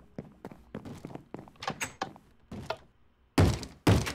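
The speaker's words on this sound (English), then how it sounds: "Who's knocking?" A series of light, uneven taps sounds on a Minecraft door, ending with two loud, heavy thuds close to the listener.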